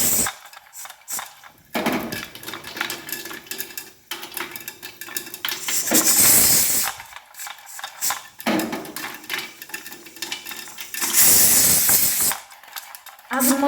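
Popcorn popping inside a covered pan that is shaken, loud bursts of rattling and clattering alternating with quieter pauses, close by.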